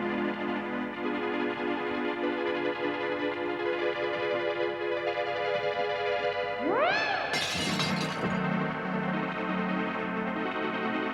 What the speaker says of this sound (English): He dropped plates beside a tape recorder to record the sound of them smashing.